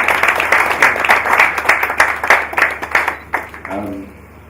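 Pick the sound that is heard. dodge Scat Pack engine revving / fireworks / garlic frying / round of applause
round of applause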